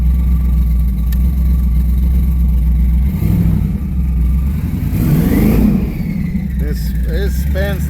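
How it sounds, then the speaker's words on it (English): A car revs hard and spins its tires, engine rising into a loud roar with squealing tire screech near the end, close by, with voices partly heard underneath. "This spins the tires so easy. See, it's spinning the tires right there."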